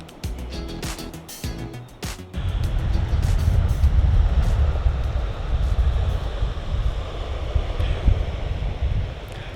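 Waves roll in on a UK beach of wet sand as the tide rises, a loud, continuous wash of surf and gusting wind buffeting close to the microphone, with a few knocks and thumps at the start.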